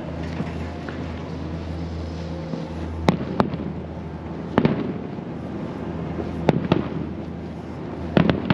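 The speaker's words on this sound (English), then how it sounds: "The fireworks." Several sharp, booming firework explosions burst at intervals over a steady background rumble, spaced a second or two apart, sounding moderately distant, at Disney's Hollywood Studios.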